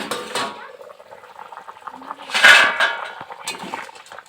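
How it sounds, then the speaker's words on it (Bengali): A metal lid lifted off a pot of simmering cauliflower and spinach curry in a home kitchen gives a clinking scrape and a burst of bubbling steam, with faint background sounds before and after. "এখন আমি ঢাকাটাকে একটু খুলবো।"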